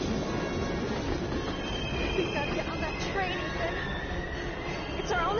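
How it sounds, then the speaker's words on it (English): Train in the video game Heavy Rain, a dense rumbling rail clatter with squealing wheels, mixed with voice-like sound throughout. "We gotta get on that train, Ethan."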